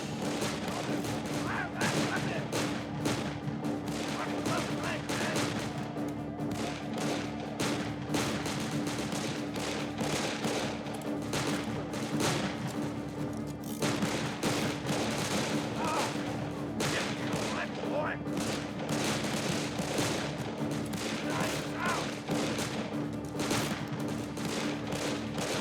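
Dense battle gunfire from the video game Darkest of Days, with rifle and machine-gun shots cracking steadily and nonstop for the whole stretch, loud and close, with voices shouting faintly underneath.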